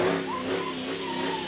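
A car reversing in BeamNG.drive, with a steady engine drone and a rising whine held loud and close throughout a short stretch.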